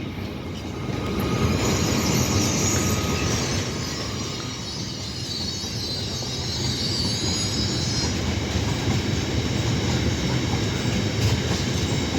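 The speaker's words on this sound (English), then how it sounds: "no idea where this ballast train's going to" A ballast train rolls steadily through Peterborough station, a continuous loud rumble of wheels and wagons with some wheel squeal, and no talk.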